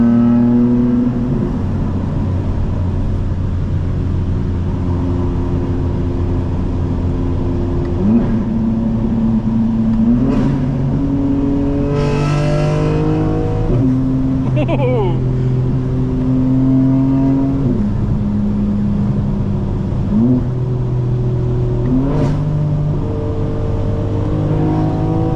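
A 2025 BMW M4 Competition xDrive engine revs loudly from inside the car, with stepped pitch drops at each quick downshift and rising pulls between them, continuous and close.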